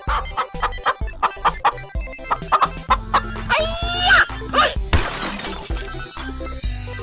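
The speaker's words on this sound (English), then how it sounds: "Chicken." Chicken clucking amid busy music-like sound effects: a run of short clucks and squawks, loud and close, mixed with tonal chimes and a brief crash, no talk.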